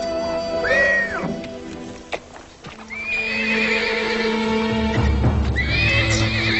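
Horses in a period adventure drama setting: a loud neigh early, then two long shrill whinnies with hoof clip-clop beneath, close and prominent.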